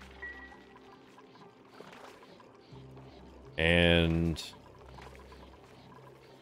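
Salt water gushes in Oxygen Not Included: a brief, loud bubbling pour lasting under a second rises over quiet background music, with someone talking around it.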